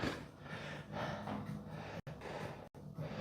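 Heavy, rapid breathing and gasps right after a high-intensity chest workout set, close and loud in a steady rhythm with brief cuts in the sound.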